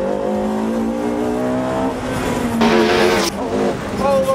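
Ferrari 458 Challenge 4.5-litre V8 of 562 horsepower at a drift circuit, revving toward 9,000 RPM, a loud steady engine tone that climbs and surges midway, with faint tire noise.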